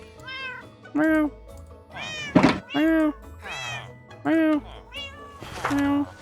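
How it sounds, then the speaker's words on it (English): Repeated meows from a cat in the Minecraft video game, clear and loud, coming in a steady series of about six calls over soft game background sounds with a dull thunk in the middle. "The cat meows are definitely driving me a bit loopy already."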